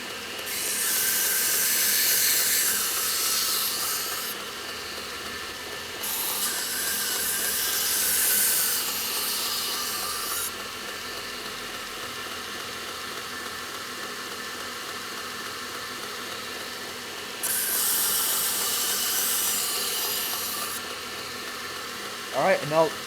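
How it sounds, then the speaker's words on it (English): A bench grinder running low and slow sharpens a knife blade, with three long, close, hissing grinding passes over the machine's steady running drone. "then I'll turn the grinder on and just go right along there"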